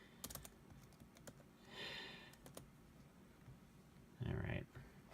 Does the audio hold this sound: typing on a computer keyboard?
yes